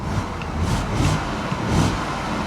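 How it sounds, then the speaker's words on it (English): A cheap salvage-auction Corvette convertible that still runs is revved up close, its engine rising and falling in a few loud swells over a steady idle. "Let's give it a little rev."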